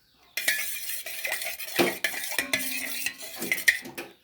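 A spoon stirs cardamom powder into hot sugar syrup for badusha, a traditional sweet, making steady scraping and clinking against the pot in close, moderately loud strokes with a few sharper knocks.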